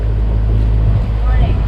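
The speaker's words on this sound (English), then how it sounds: "And you can hear the new motor. We're at cruising speed here." A new sailboat motor runs at cruising speed with a loud, steady low drone, blended with rushing wind and water noise on an open-sea passage, continuous for the whole stretch.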